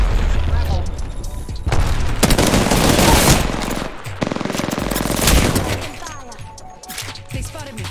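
Rapid automatic gunfire and heavy bursts in a shooter video game, loud and sustained for several seconds, with dense rattling volleys and booms that ease off toward the end.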